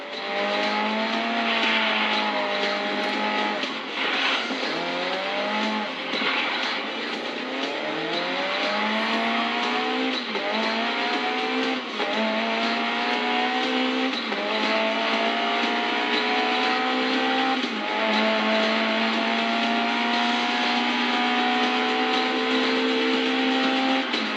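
A race car engine in the Grid Legends video game, revving up through gears with repeated rising whines and brief drops between shifts, loud and steady throughout a handbrake-assisted cornering run, no talking.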